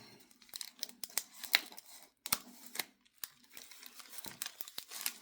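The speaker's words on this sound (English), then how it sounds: "let me get this cut open" An eBay grab bag package being cut open, with close, irregular bursts of snipping, crinkling and tearing packaging, alone and without talk.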